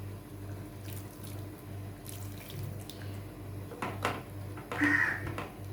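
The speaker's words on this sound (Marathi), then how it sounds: "गरम पाणी मी थोडंसंच घालणार आहे कारण हे आपल्याला सुकं चिकन बनवायचं आहे" Hot water splashes and pours into chicken in a pan for a Malvani-style dry chicken dish. A steady run of water comes first, then a couple of louder splashing bursts near the end.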